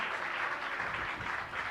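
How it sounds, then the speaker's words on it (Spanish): Faint, distant applause from a church congregation at a New Year's service, a soft continuous patter of clapping that lasts under two seconds. "Un aplauso, por favor, hermanos"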